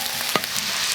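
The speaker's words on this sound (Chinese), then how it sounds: "还有姜蒜，这个我们就要先炒一会儿" Duck pieces with ginger, garlic and scallions stir-fried in a wok, a steady close sizzle with a brief louder scrape of stirring partway through.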